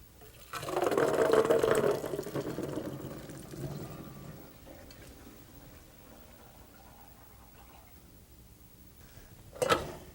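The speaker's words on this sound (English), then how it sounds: "Now we're going to drain these. Let's take them over to the sink." Cooked chickpeas drained at a kitchen sink, with a soft rushing pour of water that swells for a couple of seconds, then trails off into quiet dripping and a final brief splash.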